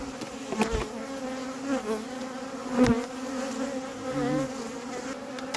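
Honey bees swarm and buzz around an opened horizontal top-bar hive during a honey harvest, a close, continuous droning hum with individual bees whining past the listener.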